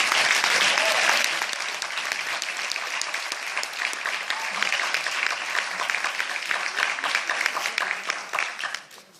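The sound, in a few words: audience applause for parents and teachers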